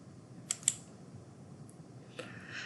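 A few sharp, faint clicks, two close together and one later, as a computer mouse is used in SAP inventory planning software, heard against a quiet room background.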